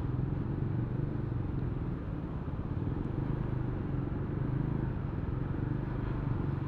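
A lorry rolls along the potholed NH12 national highway in North Bengal during the monsoon, a steady low engine rumble and tyre roar holding close and even the whole time, with no talk.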